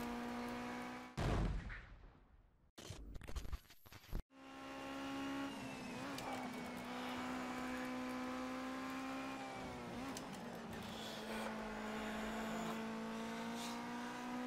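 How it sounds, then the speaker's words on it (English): Race cars from the video game Project CARS 2 in a GT5 Cup race drone with steady engine tone, broken early by a few sharp bursts and gaps, then a continuous loud engine whine with shifting pitch. "we've got a bit of a lead to Nasty PJ, our main title rival, with a few laps to go."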